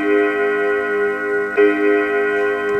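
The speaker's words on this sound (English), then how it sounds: "You can turn an alarm on this app." The alarm of the Emerald Observatory iPad app plays a steady, bright, bell-like chord with ringing overtones. It sounds alone and clear, with one soft click partway through.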